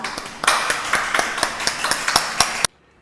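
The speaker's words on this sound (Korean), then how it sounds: "모두 박수로 목사님 환영하도록 하겠습니다" A church congregation claps in a steady, fairly even rhythm to welcome the pastor, the sharp claps close and clear for a few seconds before stopping abruptly.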